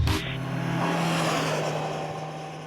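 A Kawasaki Z900 motorcycle engine pulls with a steady, close induction growl and a sustained low hum after a brief sharp onset, heard on its own without talk.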